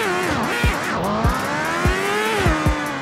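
Motorcycle wheelie stunt in the Car Dealership Tycoon video game, an engine revving with a rising and falling whine, punctuated by several sharp bumps or thuds spaced about every half second to second.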